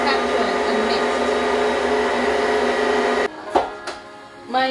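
An electric mixer creams butter and sugar for cake, a steady loud whirring drone that cuts off abruptly, followed by a few scraping knocks against the bowl.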